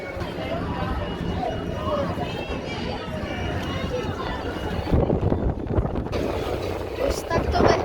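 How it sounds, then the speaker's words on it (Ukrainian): Wind buffets a phone microphone during a beach walk at Ostia near Rome, with the sea and a port nearby, a steady rough rumble that surges louder toward the end beneath a voice. "Чуть-чуть вітер піддуває, а нічого страшного."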